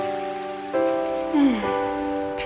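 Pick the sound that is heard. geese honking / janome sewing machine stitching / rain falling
rain falling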